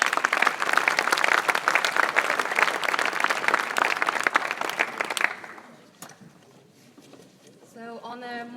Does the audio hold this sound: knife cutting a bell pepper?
no